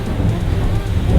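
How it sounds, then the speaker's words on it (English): Heavy rain pouring outside during a thunderstorm in Petaling Jaya, a loud, dense, continuous rumbling wash with low roar and no distinct drops or voices. "it's a stormy day in PJ, in Petaling Jaya, where I live"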